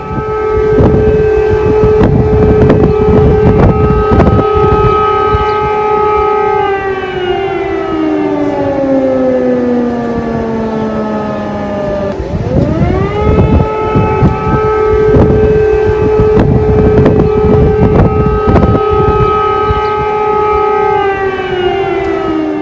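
An air raid siren sounds over Kyiv, Ukraine, during a wartime alert: a loud, sustained wail that slowly drops in pitch, then swoops back up and holds, with wind buffeting the microphone.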